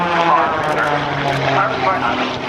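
An aerobatic propeller airplane with a steel tube fuselage and carbon fiber wings drones steadily at an airshow, a loud continuous engine and prop hum under an announcer's voice over the public address.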